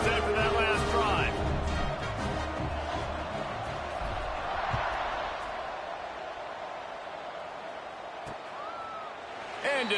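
A stadium crowd roars in a college football video game, Houston against West Virginia, around a kickoff after a scoring drive, a broad loud wash that slowly fades while a commentator talks over it.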